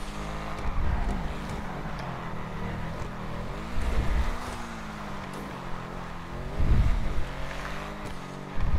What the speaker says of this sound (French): si vous trouvez que les bruits des nouvelles voitures sont pas un peu vénères, limite agressifs quoi